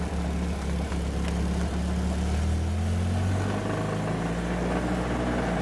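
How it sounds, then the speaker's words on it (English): A 1957 Austin Champ engine runs steadily with a low rumbling drone and a buzzing rattle from the exhaust system underneath, the pitch shifting as it drives in the rain, loud and close. "That rattle you hear is the exhaust system underneath"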